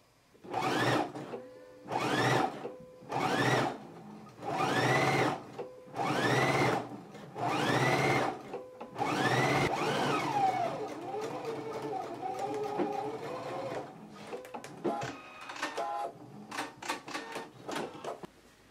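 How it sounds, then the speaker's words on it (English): A sewing machine stitches close beside the teeth of an invisible zipper on pants made from Simplicity pattern S8985, running in several loud steady bursts with short pauses, then lighter intermittent whirring and clicks as someone speaks. "we can stitch right here close to the zipper teeth, but being sure not to stitch on the zipper teeth."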